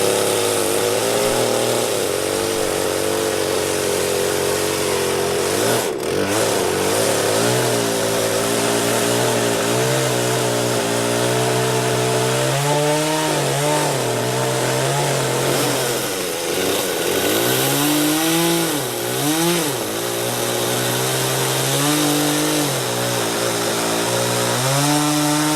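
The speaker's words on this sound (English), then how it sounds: "not the best chainsaw in the world, but it does the job" An inexpensive chainsaw runs continuously while cutting wood on a farm, its engine droning loud and close with rising and falling pitch as the chain bogs into the cut and revs free again.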